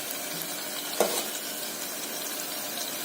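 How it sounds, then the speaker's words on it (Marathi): Masala paste roasting in oil crackles with a constant close sizzle, and a single sharp clink of a spoon or pan lands partway through. "मसाल्याला तेल सुटेपर्यंत थोडा मसाला भाजूया."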